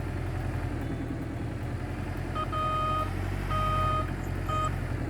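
A dump truck in the Gold Rush video game reverses, its steady electronic backup beeps repeating over a low idling engine rumble, with no talking.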